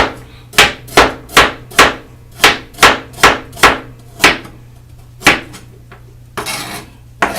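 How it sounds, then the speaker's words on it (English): Knife chopping peeled onion and carrot on a board: a regular series of about ten crisp, loud thuds, then a pause, a couple more chops and a brief scrape. "I peeled my onion, my carrot, so now I'm chopping it up"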